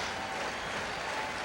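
A large baseball stadium crowd at a 1983 Yankees game on the Fourth of July cheers in a steady, loud roar with no breaks, heard alone without talk.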